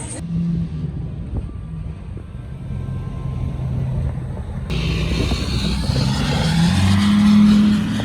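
Cars drive past along a street in Saint Augustine, a continuous engine and tire roar that grows louder toward the end as a vehicle passes close.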